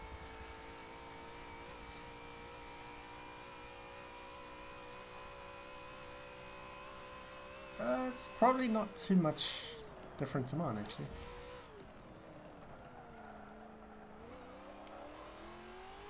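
A racing car engine in Forza 7 holds a steady drone, then revs hard in a few sharp bursts with gear changes before settling again, while someone talks over it.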